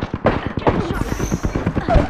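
Rapid video-game gunfire during a squad battle-royale match, sharp repeated shots in quick bursts running through the whole stretch, mixed with game effects and voice callouts.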